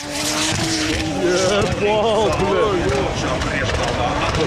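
Race car at full throttle on a steep section of a Latvian hill climb track, loud and close, its engine note rising and falling through gear changes with tyre squeal mixed in; a commentator talks over it throughout.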